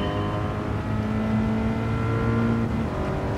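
A Toyota race car's engine in the Gran Turismo 7 video game, driven at Trial Mountain, holds a steady, loud, tonal drone with slight pitch shifts throughout, with no talking.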